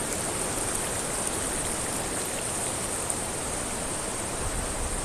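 A stream flows near a waterfall along a woodland walk. A loud, steady rushing hiss of water fills the whole stretch evenly, with no voices.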